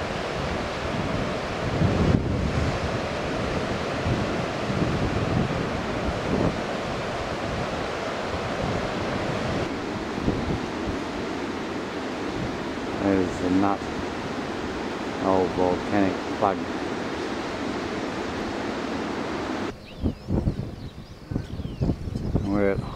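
Surf and wind at Godfrey's Beach near Stanley, Tasmania roar steadily as a broad wash of breaking waves and gusty microphone wind, close and loud, with a few brief higher tones partway through and a quieter stretch near the end.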